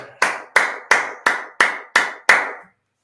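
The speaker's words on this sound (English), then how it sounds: "let's clap it up" Seven single, evenly spaced claps ring out alone at a closing feast gathering of the ISUPK in Florida, each sharp and close with a short decay before falling silent.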